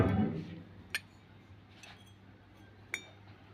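Small toy miniature cooking pots clinking as they are handled, two or three sharp light metallic taps spaced apart over a quiet background after a brief rustle.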